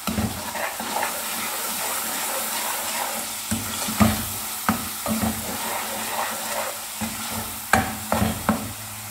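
Masala for Punjabi rajma (red kidney bean) curry being stir-fried in a pan, a steady close sizzle with scraping spoon strokes and a few sharper clinks, no talking.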